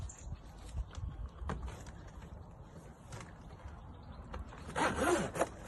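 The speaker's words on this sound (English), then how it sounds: "you wrap it round the tree like so, zip it up from the bottom upwards" Zipper being pulled up on a tree hydration bag wrapped around a tree trunk outdoors, a close rasping zip with short scratchy pulls that builds to a louder stretch near the end, with no voices.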